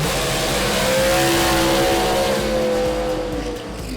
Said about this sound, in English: then you let the line lock go and the car takes off and you make the burnout